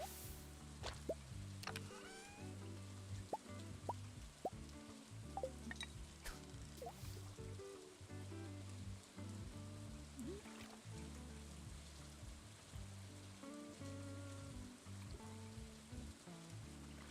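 Soft rain patters and drips steadily through a fishing scene in Stardew Valley, faint and continuous under gentle background music.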